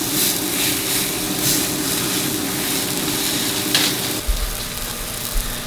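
Steady loud sizzling of food frying in butter in a pan, with a few dull knocks near the end as it is turned over.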